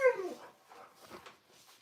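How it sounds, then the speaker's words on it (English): A dog gives a brief, faint whimper at the start, then soft, quiet yips and rustling follow indoors; no barking stands out. "That's my dog."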